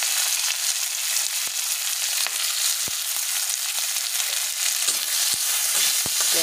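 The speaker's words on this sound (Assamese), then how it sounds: "তেলতে মই এই কাটি থোৱা পিঁয়াজখিনি দি দিম পিঁয়াজখিনি দি দিছোঁ পিঁয়াজ আৰু কেঁচা জলকীয়াকেইটাও দি দিছোঁ" Chopped onion and green chillies frying in hot oil, a loud steady sizzle with occasional sharp crackles and pops throughout, no voices.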